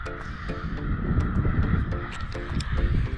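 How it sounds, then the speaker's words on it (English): Harsh, raucous calls of seagulls and flamingos repeat in short bursts over a steady outdoor rumble near a coastal salt flat, several birds squawking near and far at once. "Seems like there's some sort of turf war going on between the seagulls and the flamingos right now."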